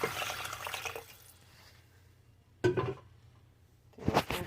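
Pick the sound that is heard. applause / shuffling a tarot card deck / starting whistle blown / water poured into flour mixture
water poured into flour mixture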